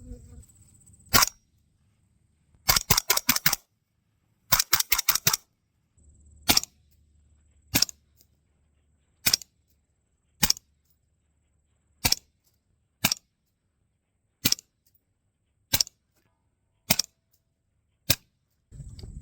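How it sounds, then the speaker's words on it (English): Suppressed rifle shots from a 20-inch barrel fitted with an Otter Creek Labs Infinity 30 suppressor crack sharply, some fired in quick strings and others as single, evenly spaced reports, loud and close. "we are going to try this on the 20-inch with the Infinity 30, seeing how that compares to a traditional baffle-styled suppressor"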